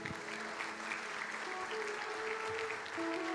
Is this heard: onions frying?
no